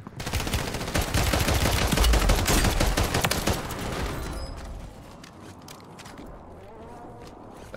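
Pistol gunfire in the game Warzone 3: a burst of sharp, fairly loud shots and clattering impacts over the first few seconds, then the shooting stops and only faint ambient noise remains, with no talk.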